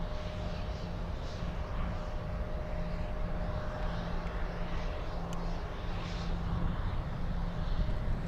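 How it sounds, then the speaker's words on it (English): A propeller airplane landing at Munich airport gives a steady broad engine drone with a low hum, heard from a distance outdoors and holding level throughout without speech. "We have a prop landing in just a bit."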